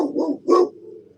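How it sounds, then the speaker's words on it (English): Dogs give two short, sharp barks close by in quick succession, followed by quiet. "I don't know what they're barking at"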